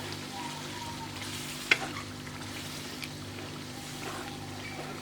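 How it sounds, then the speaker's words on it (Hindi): Spoon stirring a yogurt mixture for vegetable biryani in a pot over a low flame, giving a steady soft sizzle and scraping with one sharper clink, under a low continuous hum. "इसको हिलाते जाएंगे 2 मिनट तक लो फ्लेम पर, ताकि ये दही पट ना जाए इसमें"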